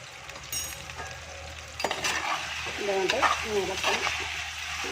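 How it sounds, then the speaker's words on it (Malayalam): Chicken pieces fry in oil in a clay pot for a home-style curry, sizzling softly under scraping stirs, with faint voices in the background. "അപ്പോൾ ഇത് എണ്ണയ്ക്കകത്തിൽ കിടന്നൊന്ന് ചെറുതായിട്ടൊന്ന് വഴണ്ടി വരട്ടെ."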